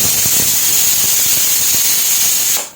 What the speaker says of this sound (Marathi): हे पहा आपल्या कुकरची एक शिट्टी झाली